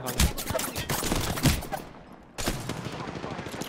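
Rapid bursts of automatic gunfire in the Apex Legends video game, loud and dense, with a short lull before shooting resumes.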